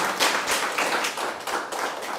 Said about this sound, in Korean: 올디스 유튜브에 큰 박수가 필요할 것 같습니다.